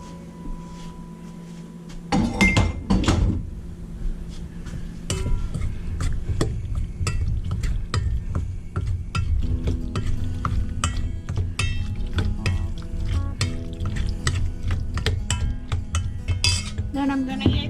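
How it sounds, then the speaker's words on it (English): Peaches are tossed with flour in a bowl, with repeated clinks and scrapes of a utensil against the dish. Quiet at first, then busy, steady clatter and rattling continue to the end. "I'm going to coat these peaches with flour."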